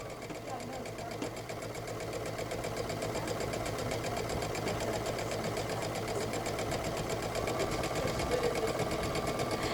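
A sewing machine with a 4 to 6 millimeter double cording foot stitches fabric in a fast, even, rhythmic whir that grows slightly louder, while people talk nearby.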